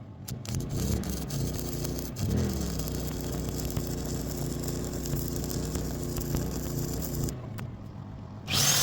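A quick tack-weld repair out in the bush gives a steady crackling buzz for about seven seconds. It cuts off abruptly, and a brief final burst follows.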